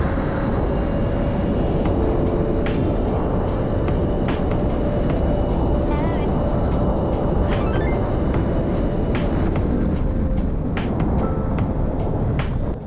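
A Surron Ultra Bee electric supermoto motorbike in sport mode on a top speed run gives a loud, steady roar of rushing wind over a thin motor whine, unbroken for the whole stretch, with no talking.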